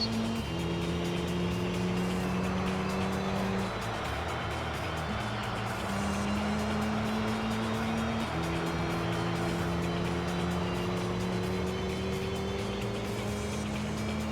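Race car engine in Gran Turismo 3, droning steadily with rising and falling pitch as gears shift and the car accelerates, loud and continuous with no talk over it.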